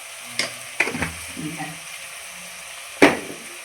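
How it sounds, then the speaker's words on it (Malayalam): Turmeric and chili powder being sautéed in a pan, a few sharp scraping stirs over a faint sizzle, close by and mostly sparse. "ഒന്ന് വഴറ്റണം കേട്ടോ."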